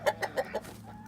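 Hens clucking at a chicken farm near the hen house at dusk, four quick, evenly spaced clucks up close, then a faint murmur of birds, no talk.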